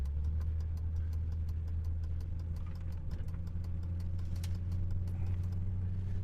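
A car engine idles steadily in slow, stop-and-go traffic on a cold day, a close, continuous low rumble with faint rhythmic ticking running through it.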